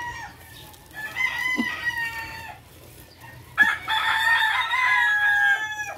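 Chickens and roosters crow repeatedly in a garden, with loud drawn-out calls and scattered clucking close by, the crowing coming in two main bursts.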